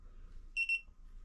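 Two short electronic beeps in quick succession from a torque wrench signalling set torque while a Toyota GT86 is fitted with a sixth gear, clear over a faint low workshop hum.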